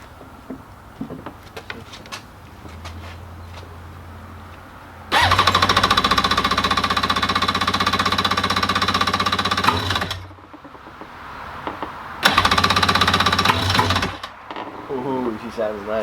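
Yamaha SuperJet jet ski engine, running without air filters, cranks and then fires into a loud, buzzy, rattling two-stroke idle. It cuts out, then restarts briefly, with people talking nearby.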